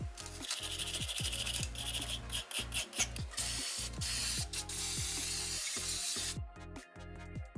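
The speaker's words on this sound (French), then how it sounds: "Brossez les surfaces avec une brosse métallique pour retirer la rouille et les dépôts." A wire brush scrubs rust and deposits off a Peugeot 308 brake caliper bracket in steady, loud back-and-forth rasping strokes, close up and with no talking.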